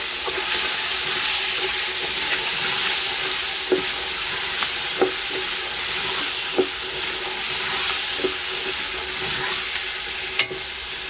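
Tomato puree sizzles and fries in a pan of lamb curry, a steady loud hiss with occasional soft stirring scrapes and clicks, no voices.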